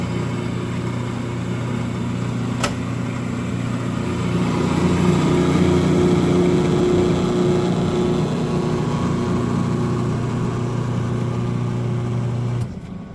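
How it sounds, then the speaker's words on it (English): A coffee maker grinds beans ahead of brewing a half gallon of coffee, giving a steady, loud mechanical whir with a low hum that runs for about twelve seconds and then stops abruptly. "when I'm ready, I'm going to hit grind"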